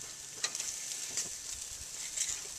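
Beef ribs sizzle steadily on a grill after a flip, giving a continuous close hiss broken by a few sharper crackles and spits of fat, with no voices.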